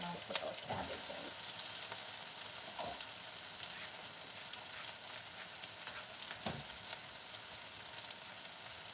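Cabbage and corned beef sizzle and fry in a pot with a steady broadband hiss, broken by a few clanking stirs and scrapes of a utensil against the pot, fairly quiet throughout with no talking.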